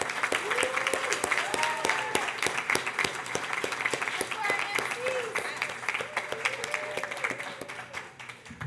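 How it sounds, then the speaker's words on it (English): Sustained audience applause for a graduating class of 2021 at an evening celebration, a dense wash of clapping with a few whoops and voices mixed in throughout. "Can we get one more round of applause for the class of 2021?"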